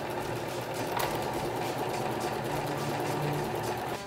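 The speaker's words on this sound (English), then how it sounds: "Use a regular straight stitch if you're using a sewing machine" Sewing machine running a regular straight stitch along a T-shirt scarf, a steady close motor whir and rapid needle chatter held for about four seconds, alone and moderately quiet.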